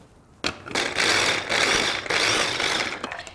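A kitchen food processor chops onion in loud whirring bursts: a short pulse, then two longer sustained runs separated by brief pauses, close and with no voices.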